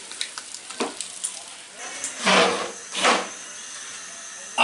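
Eggs fry in masala in a pan, a quiet sizzle broken by several bursts of spatula stirring and scraping, with an abrupt knock at the very end.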